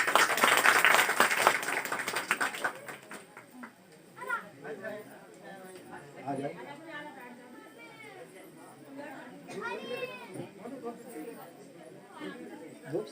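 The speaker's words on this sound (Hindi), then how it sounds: "एक बार जोरदार ताली।" An audience at a gathering breaks into loud, dense applause that fades over a few seconds into crowd chatter and a voice talking over the room.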